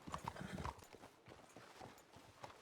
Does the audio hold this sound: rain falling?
no